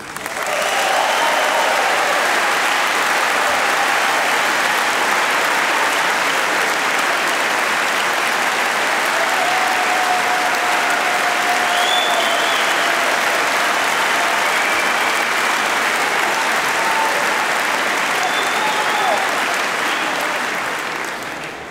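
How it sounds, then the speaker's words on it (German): Loud, sustained applause from a large crowd at a championship celebration, thick continuous clapping that holds at full strength for the whole stretch, with a few faint whistles or cheers inside it. "Applaus"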